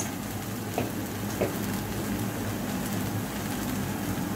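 Chili powder, turmeric and pepper powder sautéing in a pan for egg puff filling, a steady close sizzle with a couple of faint stirring knocks, no talking.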